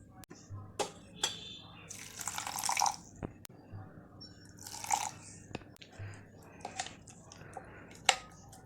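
Batter for a bread recipe is mixed with water, giving scattered wet clicks and splashy stirring bursts, close and fairly soft, with short pauses between strokes.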